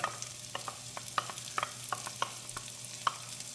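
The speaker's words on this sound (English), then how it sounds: "And now I'm going to add the oil and garlic." Garlic frying in oil in a pan for a weeknight casserole: a steady soft sizzle, nearby and moderately loud, with quick scraping stirs every so often and no talking.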